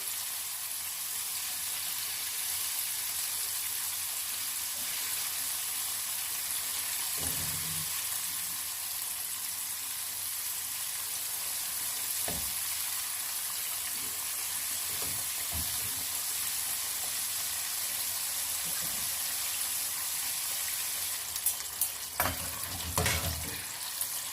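Chicken pieces for a crispy zinger burger deep frying in hot oil, a steady dense sizzle running throughout with a few soft clunks and bursts of louder crackle near the end.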